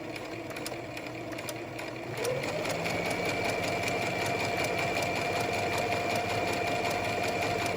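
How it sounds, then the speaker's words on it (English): A sewing machine stitches fabric for a face mask, starting after about two seconds into a steady, rapid mechanical whirr and needle chatter that runs close and loud to the end. "So we'll just line it up there and start sewing."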